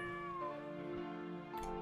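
A cat meows in the video game Legion TD 2 in a drawn-out, tonal wail, heard over a steady musical background.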